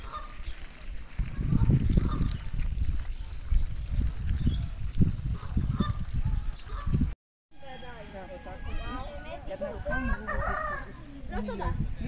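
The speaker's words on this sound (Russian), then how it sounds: "И злая птица, которая на меня фыркала." Angry bird at a village pond in Israel honking and snorting, with chicken-like clucks and rooster crowing among lively outdoor noise, followed by a brief gap and sharper repeated calls up close.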